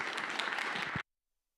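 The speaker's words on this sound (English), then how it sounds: "Big round of applause for them." A short burst of audience applause for panelists at an evening university event in Topeka. Dense clapping lasts about a second and then cuts off abruptly into silence.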